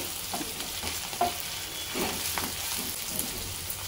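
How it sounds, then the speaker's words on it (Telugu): Potato and fenugreek leaf curry sizzles over medium flame while a spoon stirs it through the pan, soft scraping strokes over a continuous frying hiss, nearby and with no one speaking. "ఇప్పుడు కొంచెం మీడియం ఫ్లేమ్ మీద పెట్టేసుకొని మంచిగా ఇట్లా కలుపుకుంటా ఉండండి"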